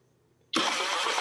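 Honda Beat scooter with a rough electric starter, silence broken by an abrupt loud burst of harsh, grinding mechanical noise that continues steadily.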